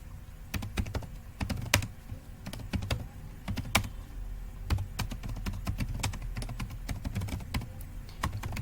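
Rapid, uneven keystrokes on a computer keyboard while HTML code is being written, with close, crisp clicks and clacks running steadily throughout with no talking.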